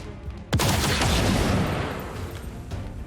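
A single loud gunshot fired at an Andromedon in XCOM 2, a sharp blast followed by a long rumbling, crackling tail that slowly fades.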